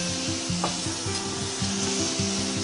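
Kinpira vegetables with sugar cook in a pan, a steady close sizzle under rhythmic scraping strokes of a utensil stirring against the pan, repeating about twice a second.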